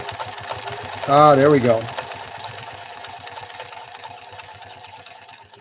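A Pfaff 332 sewing machine runs with a fast, even mechanical clatter of needle strokes, steady throughout, while a person briefly speaks over it.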